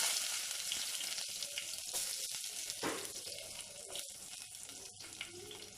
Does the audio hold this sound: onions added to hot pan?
yes